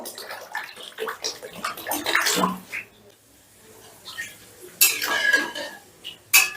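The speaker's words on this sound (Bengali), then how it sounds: "এবারে গ্রেভির জন্য দিয়ে দিচ্ছি জল জলটা আমি একটু বেশি দিচ্ছি" Water is poured into a pan of rohu fish kalia gravy: a rushing splash with cookware clatter, a short lull, then another loud burst of pouring, all close by.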